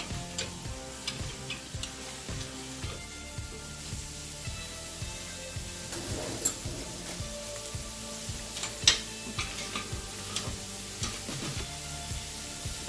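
A spoon or spatula stirs a breakfast scramble in a pan, giving a faint sizzle under repeated light scrapes and ticking taps spread unevenly over several seconds.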